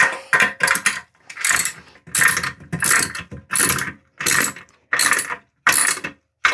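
Nuts are tightened onto toilet bolts with a ratcheting wrench during a wax ring install, about eight bursts of rapid ratchet clicking separated by short silent pauses, close and clear.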